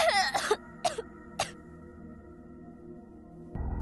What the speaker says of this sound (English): She suddenly started to cough and heave.